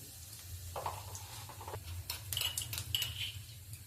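Black cumin seeds drop into hot oil in a pan on a gas stove, giving light crackling ticks and small sizzling pops over a steady low hum, with scattered clinks of a metal utensil against the pan.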